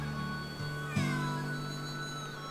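A cat meows in the video game Suikoden V, a drawn-out cry that starts softly and then rises sharply in a loud, wavering yowl over a sustained low musical hum.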